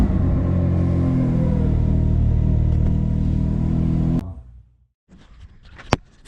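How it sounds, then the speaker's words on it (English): A Can-Am Maverick X3 engine idles loudly and steadily with a deep rumbling drone, then cuts off abruptly, leaving quiet shuffling and a single sharp click. "jump in here and start your machine up for 2 to 3 minutes"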